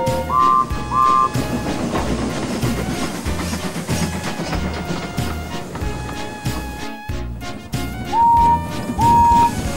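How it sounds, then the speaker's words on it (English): Winston, the small rail inspection car from Thomas & Friends, hauling ballast trains on Sodor: repeated short whistle toots over a rhythmic rolling clatter, with a brief pause midway, loud and busy. "Winston hauled ballast trains to and from the site."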